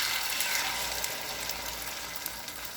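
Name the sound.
bacon egg foo young frying in a frying pan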